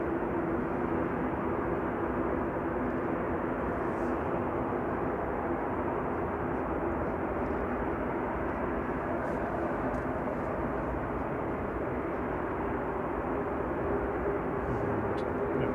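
Airliners including an Airbus A380 taxiing at Manchester Airport at night, a steady distant engine rumble and whine holding evenly throughout with no voices over it.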